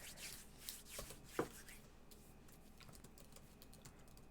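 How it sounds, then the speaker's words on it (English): A name is typed on a computer keyboard in a quick run of light key taps. The clicking is denser at first and then thins into scattered taps, all fairly quiet. "I don't know if I'm typing your name in correctly."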